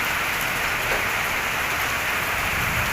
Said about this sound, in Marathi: तर आता केरळमध्ये जोराचा पाऊस चालू झाला आता